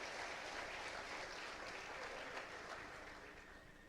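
A church congregation at a family conference claps together in steady, sustained applause that fills the space evenly, fading a little toward the end, with no voices standing out.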